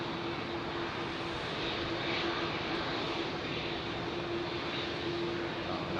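Steady, even engine roar of an Icelandair Boeing 757 departing Heathrow, heard from a distance with a constant broadband rumble and a faint tonal whine, no voices.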